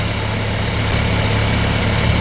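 A tractor engine runs steadily while cultivating row crops, a continuous loud low rumble with a constant drone and vibration and no voices.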